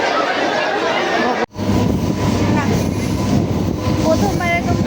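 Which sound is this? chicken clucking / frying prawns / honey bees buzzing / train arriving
train arriving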